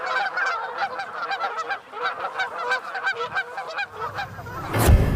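Greater snow geese honking in a dense flock, a continuous overlapping chorus of calls throughout, fairly close, with a brief rumbling gust or handling noise at the end.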